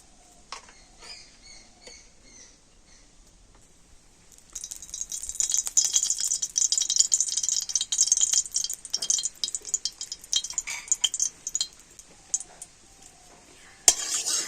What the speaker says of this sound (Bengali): এবার আমি কড়াতে দিয়ে দেব 1 চামচ ঘি